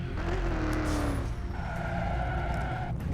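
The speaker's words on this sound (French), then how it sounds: "là je viens de faire un super dérapage pour provoquer un peu les flics." A car drifting in the driving game City Car Driving, its engine droning loudly and steadily throughout with a rising tire squeal early on, all sounding close.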